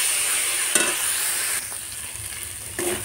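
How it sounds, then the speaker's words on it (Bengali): Minced meat for burgers sizzles as it is stir-fried in a pan with its released water, a continuous close frying hiss with occasional scrapes from stirring. "মাংসটা দেওয়ার পরে মাংস থেকে জল বেরিয়েছে, এইভাবেই ভালো করে কষিয়ে নেড়ে চেড়ে নেব।"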